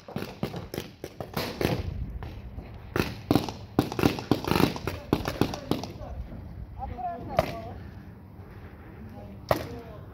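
Paintball markers firing during an outdoor paintball game, several sharp pops scattered among steady shouted coaching from a nearby voice.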